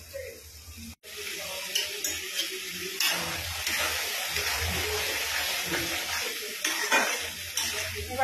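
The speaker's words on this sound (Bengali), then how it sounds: "দেখো এবার ভালো করে এটাকে কষাতে হবে।" Spice paste sautés in a pan for a chicken dish with an even, close sizzle and frequent scraping and clinks as it is stirred, and there is no speech.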